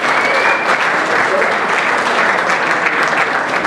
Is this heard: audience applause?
yes